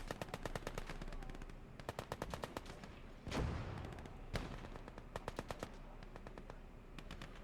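Rapid bursts of gunfire in the video game Gates of Hell: Ostfront, several volleys of machine-gun shots with a heavier boom in the middle as units attack a Bofors cannon crew, loud and close throughout.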